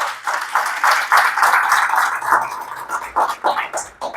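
Church congregation clapping together in a sustained round of applause, dense and fairly close, pulsing unevenly and thinning toward the end.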